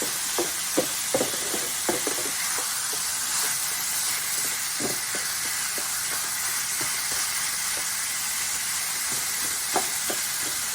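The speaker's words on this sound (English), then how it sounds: "as the meat is cooking, I'm gonna break it up like this so I get it nice and small" Ground meat for tacos sizzles in a hot pan, a steady bright hiss with scattered pops and crackles and a few louder clicks from a utensil breaking it up, close by and without talk.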